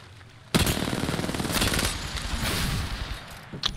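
Loud, sustained automatic gunfire in the video game Apex Legends starts abruptly after a brief quiet moment and rattles on densely for about three seconds.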